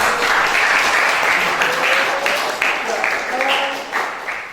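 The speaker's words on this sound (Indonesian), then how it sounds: "Tepuk tangan ya." Steady audience applause fills a classroom or seminar hall for several seconds, dense and close, with a few voices mixed in beneath the clapping.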